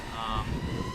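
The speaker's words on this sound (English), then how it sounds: "Wow, it is really windy out here." Steady wind buffets the microphone with a low, rough rumble for about a second, close and fairly loud, with no clear speech.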